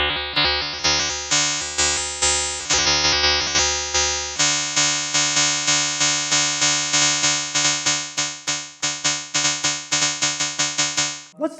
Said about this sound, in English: You're starting to already hear that sort of familiar FM sound,